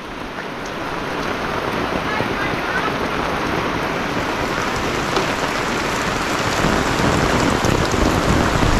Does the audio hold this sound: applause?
no